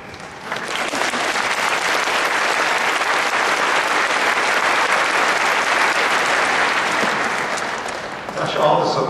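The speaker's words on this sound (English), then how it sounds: "Gosh, all this applause" An audience at an interfaith roundtable breaks into loud, sustained applause, a dense roar of clapping that holds steady for several seconds before fading, with a voice briefly speaking as it dies down.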